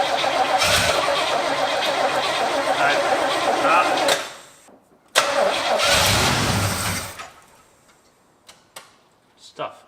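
An abandoned Oldsmobile Cutlass muscle car, stored for 33 years, cranks loudly in two long starter bursts with a short break between, the engine churning without catching, then a few faint clicks as the cranking stops.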